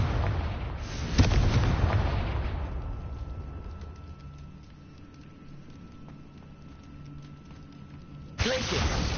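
The Confringo fire blast spell explodes in Hogwarts Legacy with a loud booming burst that decays into a low rumble and hum, then another blast hits at the end.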